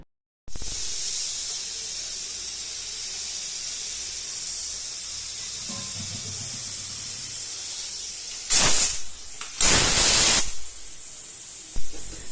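A pressure cooker steaming pointed gourd gives off a steady, close hiss, then two loud, sharp bursts of escaping steam near the end, with no talking.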